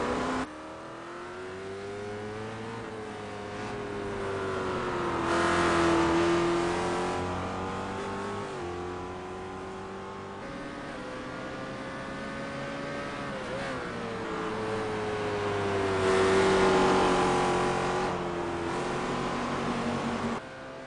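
Race car engines roar in a sim racing game at the Spa circuit, rising and falling in pitch as they rev, shift gears and pass close by, with a steady, loud drone and no talking.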